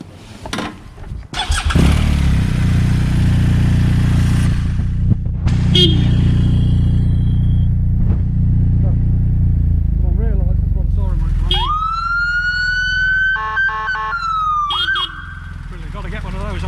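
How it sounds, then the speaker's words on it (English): A BMW R1250RS police motorcycle with its engine running starts up, idles with a loud steady rumble, then its siren wails and rises in a long tone over the engine near the end. "Fit with the siren, needs the engine running for the siren."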